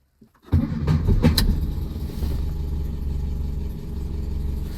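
A 1955 Austin A40 Cambridge is started with the choke out on a very cold day. A brief cranking churn catches into a loud engine start, then settles into a steady, rough low idle close by.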